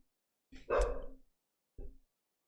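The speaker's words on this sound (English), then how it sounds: "He's barking there" A dog gives two barks, a longer loud one followed by a shorter one after a pause, close and otherwise quiet.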